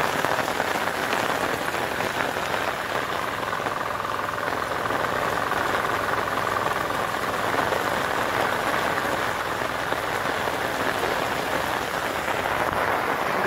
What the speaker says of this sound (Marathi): हो आज भरपूर पाऊस आहे. मगाशी आला आणि परत गेला, आता आलाय बघा परत.